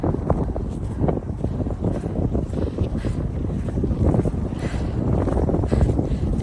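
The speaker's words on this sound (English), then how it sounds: "turned a bit windy again." Strong gusty wind buffeting the microphone on a muddy walking trail, a continuous loud roar and rumble with uneven surges throughout and no talking.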